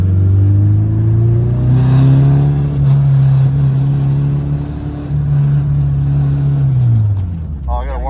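Engine of a K-swapped Nissan S14 drift car revving steadily at high pitch for several seconds, holding near a constant drone, then dropping off near the end, with voices talking over it on track.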